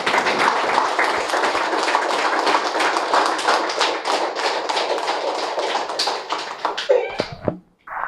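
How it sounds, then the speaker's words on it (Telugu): A workshop audience claps together in a dense, sustained round of applause that fills the room, dies away near the end, and is followed by a brief moment of quiet. "పత్రి గారికి ఒకసారి పూర్తిగా చప్పట్లు కొడదాము"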